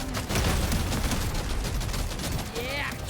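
A Crassus detonator goes off in Deep Rock Galactic Survivor, a dense, loud burst of blasts and crackling debris that rolls on for several seconds, with a brief tonal game effect near the end.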